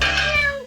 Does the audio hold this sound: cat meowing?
yes